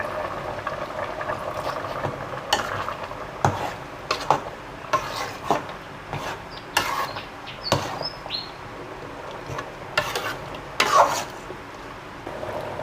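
Red curry paste stir-fried in oil in a pot for a Thai curry, giving a soft sizzle with repeated scraping clatters of a utensil against the pot, close by and irregular, with birds faintly in the background.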